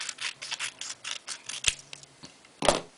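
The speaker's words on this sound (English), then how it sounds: "I think it's best for me to cut this off" Scissors snip through a rub-on transfer sheet for card making in a rapid run of light, close cuts, then a pause and one final sharper snip. No voices.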